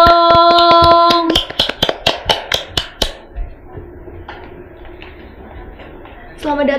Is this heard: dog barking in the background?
no